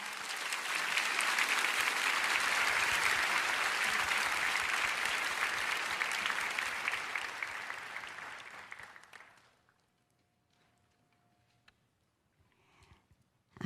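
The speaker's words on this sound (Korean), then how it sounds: "강사님 나오실 때 힘찬 박수로 환영하며 맞이하겠습니다." A church audience gives loud, sustained applause to welcome a guest speaker, dense clapping that holds steady for about nine seconds, then fades quickly into near silence.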